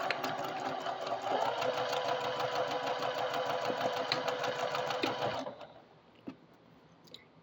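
A sewing machine chain-pieces fabric, stitching in a steady, fast mechanical whir for about five seconds before stopping, followed by quiet handling of the fabric.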